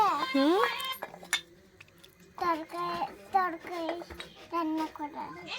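A child handles toy cooking pots and a lid, making light clinks and clatters in short bursts, while a child and an adult talk over and between the sounds.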